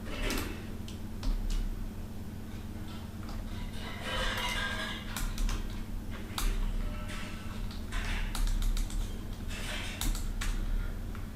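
Typing on a computer keyboard while working in an Excel spreadsheet: scattered, irregular light key clicks, sometimes in quick bunches, over a low steady background hum, with no speech.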